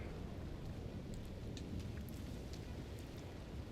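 Steady rain with a low rumbling thunderstorm in the Red Dead Redemption video game, a dense continuous wash of rainfall with deep rolling thunder underneath, heard alone without talk.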